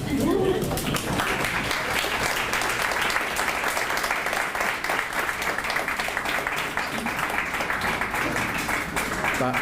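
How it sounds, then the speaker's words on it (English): Crowd applause at a National Signing Day letter-of-intent ceremony for career and technical students, a steady, dense clapping that fills the room for nearly ten seconds with voices mixed in. "Applause."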